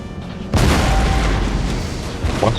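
Artillery volley in Total War: Empire with a Russian army firing on light infantry, a sudden loud boom followed by a long rumbling roar and scattered crackle, no speech.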